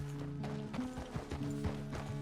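Rhythmic hoofbeats of a horse being ridden in Red Dead Redemption 2, quiet clip-clop steps over a faint tonal game background, with no speech.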